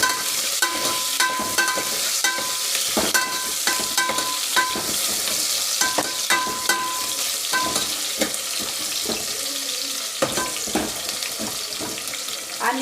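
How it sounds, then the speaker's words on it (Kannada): Onions frying in a pan for agalakayi gravy, a steady close sizzle punctuated by rhythmic spatula taps and scraping, with light background clatter. "ಈರುಳ್ಳಿ ಹಾಕ್ಕೊಂಡು ಫ್ರೈ ಮಾಡ್ಕೊಂಡು ನೀಟಾಗಿ."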